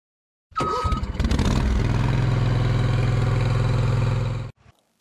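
A Spider remote-controlled mower's engine turns over and catches, then runs at a steady, loud idle with a strong low hum for about four seconds before cutting off abruptly.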